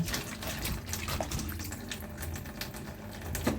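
Tap water runs steadily into a sink as food is rinsed clean in a third change of water, a continuous close splashing wash with a few brief clinks, no talk.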